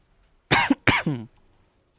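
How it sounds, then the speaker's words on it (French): A person coughs twice in quick succession, close and loud, with quiet pauses before and after. "j'en ai marre de tousser"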